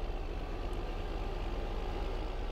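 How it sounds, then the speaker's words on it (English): A big tractor's engine idling in Farming Simulator 2015, a low, even rumble with a soft regular pulse, steady and close with nothing else over it. "You can see why you need this big tractor actually."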